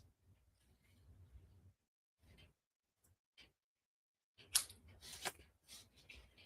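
Scissors snipping cardstock for a handmade card: soft, scattered cuts at first, then a quicker, louder run of close crisp snips, with quiet handling noises in between.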